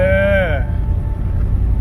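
A truck with a swapped 4L80E automatic transmission shifts gears while being driven around the block. The engine's whining tone sweeps downward as a shift lands, then settles into a low rumble of road and wind noise.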